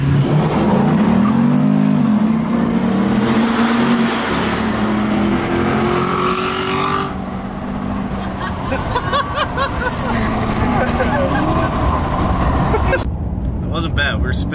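Chevrolet 2500 Duramax diesel truck with compound turbos launching in a drag race against a Corvette, the engine droning and climbing loudly with turbo whine for many seconds, voices faintly underneath.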